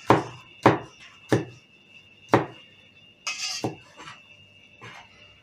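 A cleaver chops shepherd's salad vegetables on a board: a run of loud, sharp strikes spaced unevenly apart, with a brief scraping clatter partway through and a thin steady whine in the background.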